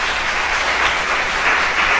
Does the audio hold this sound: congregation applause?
yes